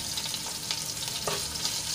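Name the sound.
green chillies and ginger sautéing in oil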